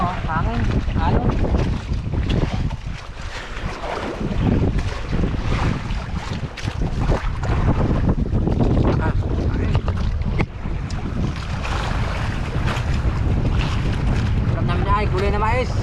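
Strong wind buffets the microphone over rushing waves and the rumble of a boat at sea, loud and continuous, with occasional voices beneath.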